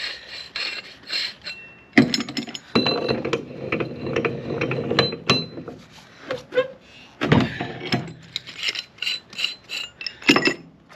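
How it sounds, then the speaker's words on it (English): A pump plumbing fitting is clamped into a vise, producing close, loud bursts of ratcheting clicks, metallic scraping and rubbing in irregular spurts separated by short pauses. "This here is going to go on here, so I need to put this in the vise."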